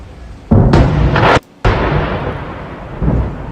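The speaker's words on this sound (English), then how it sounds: "This was one of the hits in Bnei Barak by Hezbollah." Rocket strike explosion in Bnei Barak during a Hezbollah barrage, captured in news footage: a loud booming blast with a sharp crack, a brief cutout, then a rolling rumble that fades and swells again.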